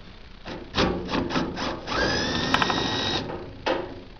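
A special power tool runs a bolt out of the side of an aircraft flap bracket during Grumman-style flap rub strip replacement, with bursts of rough grinding buzz followed by a steadier whining run and a final short burst, close and loud.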